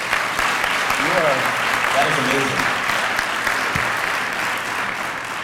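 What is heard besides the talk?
audience applause for young lady speaker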